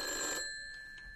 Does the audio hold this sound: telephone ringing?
yes